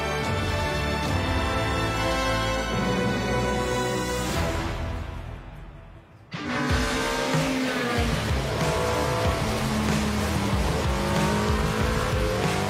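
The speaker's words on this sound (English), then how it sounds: "When an Alpina M3 E30 DTM with more than 300 horsepower flies over the asphalt like that" Alpina-run BMW M3 E30 DTM touring car with over 300 horsepower races hard on asphalt, its loud engine howling continuously with tire squeal, briefly dropping away mid-pass before roaring back close and strong, with no talk.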